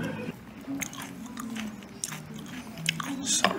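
Someone bites into and chews deep fried carp fish eggs close to the mic, with soft crunches and wet squishy chewing across several seconds.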